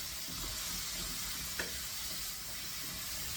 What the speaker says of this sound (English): we're going to cook this till the liquid cooks out of those mushrooms